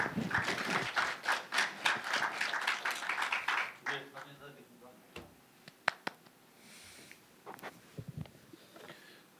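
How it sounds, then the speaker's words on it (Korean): Audience at a science policing forum gives a few seconds of scattered clapping that fades out, followed by quieter taps and shuffling sounds in a hall. "큰 박수로 맞아주시면 감사하겠습니다"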